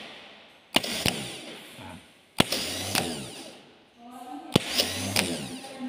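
A car starter motor is bench-tested on a battery with no load, spinning up in three separate bursts of loud, whirring, high-pitched motor noise, each lasting about a second and a half, with short quieter gaps between.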